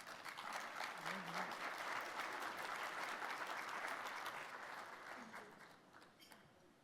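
Steady audience applause fills a crowded room as a minister is welcomed to the stage, dense and sustained clapping that holds strong throughout before tapering slightly at the end.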